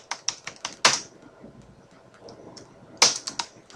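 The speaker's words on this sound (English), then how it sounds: "now I'm going to type in the name of the video" Clicky computer keyboard typing with quick bursts of keystrokes, close and crisp, pausing briefly in the middle before another rapid flurry.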